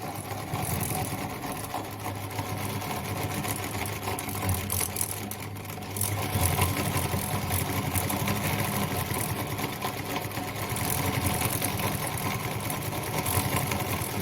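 A Singer 206K sewing machine runs steadily while sewing a zigzag stitch, a continuous mechanical whir with a rhythmic needle clatter at close range, no voices.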